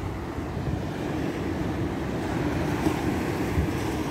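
Ocean waves washing onto a sunny beach, a steady, loud rush of surf with wind noise across the microphone and no voices.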